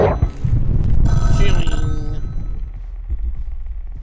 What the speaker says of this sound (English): Do you think he gets a headache when people call him considering all the noise from the ringing?